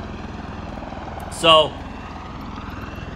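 Whirring rotor and engine drone of an MV-22 Osprey tiltrotor in Microsoft Flight Simulator 2020 runs steadily throughout, with a brief louder tonal burst midway as a voice speaks over it.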